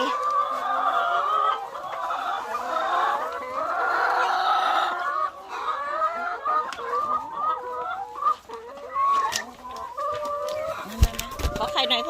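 Laying hens in a coop cluck and squabble busily together, a dense, close chorus of overlapping calls and scuffling, with a person's voice speaking now and then among them.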